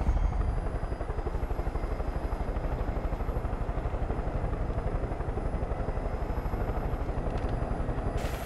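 A Far Cry 5 helicopter drones steadily throughout, its rotor chopping in a fast, even pulse over a constant engine whine, loud and close with no break.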